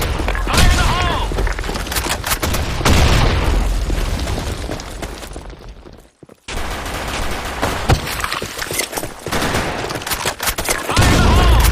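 Gunfire and grenade blasts in Sand Storm II, a first-person shooter: loud, rapid bursts of shots and heavy booming explosions fill the scene, broken by a brief near-silent gap before the firing resumes.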